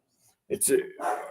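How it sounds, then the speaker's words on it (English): Dogs bark at a van, a few quick close barks and yips in a short burst with some high whining edges. "There's a van, and it's got my dogs barking away."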